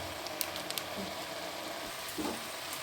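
Ginger, turmeric and green chili paste with Kashmiri chili powder sizzling steadily in a pan for cauliflower ghugni, with faint scrapes of stirring and a few light clicks of the utensil, close and continuous.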